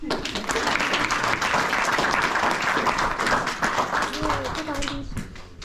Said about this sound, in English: Another wee round of applause.